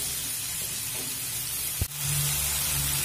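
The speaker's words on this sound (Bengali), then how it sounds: "চিংড়ি মাছটা আমার ভাজা হয়ে গেছে" Shrimp frying in a pan for a spicy flat-bean and shrimp dish, a steady close sizzle with one sharp clunk partway through, then the frying carries on alone.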